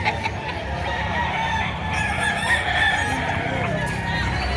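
A two-year-old rooster at a market crows loudly and nearby, a drawn-out cock-a-doodle-doo over a busy background with faint talk and other fowl clucking.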